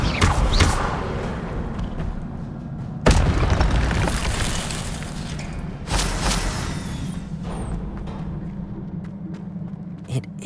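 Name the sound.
Incendio fire spell explosions in the video game Hogwarts Legacy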